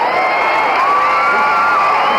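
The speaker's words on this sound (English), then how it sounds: "Crowd got excited about that left thrown by Mathis" A boxing arena crowd roars in excitement at a left punch from Buster Mathis against Muhammad Ali, a loud sustained cheer with whoops rising over the hall for the whole moment.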